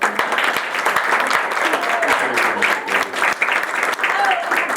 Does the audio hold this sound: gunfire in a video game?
no